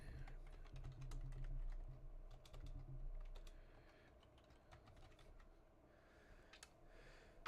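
Typing on a computer keyboard to enter an email address, heard as quiet, irregular clicks of keys at close range over a low steady background hum.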